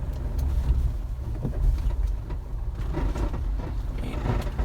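A Mahindra Thar SUV rumbles over a deeply potholed road, its engine and suspension giving a steady low drone with uneven thumps and rattles as it lurches through the holes.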